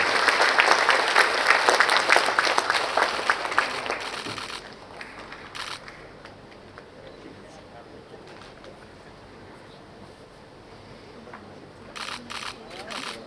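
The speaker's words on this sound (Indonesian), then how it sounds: "Kita beri tepuk tangan yang meriah." Loud applause from an audience at a professorial inauguration ceremony at UIN Syarif Hidayatullah in Jakarta, dense clapping for about four seconds that then thins out, with quieter room noise and scattered claps following.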